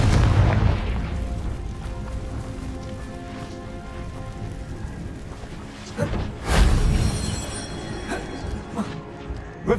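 A fire spell blast in Hogwarts Legacy on PlayStation 5 erupts with a loud booming burst and crackling tail, set against rumbling, rain-like game ambience.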